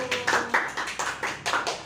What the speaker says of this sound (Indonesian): kita berikan apresiasi dulu, kita tepuk tangan dulu